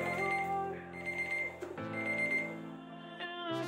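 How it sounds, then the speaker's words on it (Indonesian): An alarm clock ringing, a bright electronic melody of steady repeating tones, loud and close, playing alone without any voices. "Alarm 10 menit."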